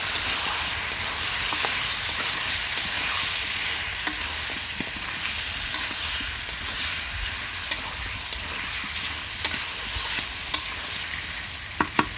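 Chicken being sautéed and stirred in a pan for a Bengali chicken curry, giving a steady loud sizzle and frying hiss with scraping stir strokes throughout, no talking.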